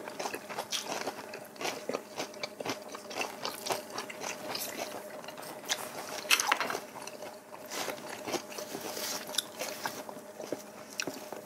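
Close, continuous chewing and crunching of wraps filled with smoked duck and vegetables, a busy, rhythmic mastication with no talk over it.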